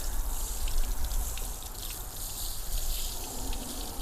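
Water rinses over a freshly scrubbed boat surface, a steady splashing spray with a low, rumbling wash that holds at an even, fairly close level throughout.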